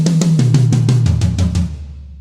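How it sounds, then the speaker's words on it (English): A drum fill runs down the kit in 16th notes, four strokes on each drum, with the pitch stepping lower from drum to drum, loud and close, then ringing out as the last tom decays. "that's to play 16th notes, 4 notes per drum"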